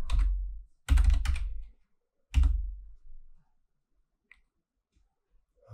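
Computer keyboard typing comes in a few short clusters of close, crisp key clicks, with quiet gaps between them.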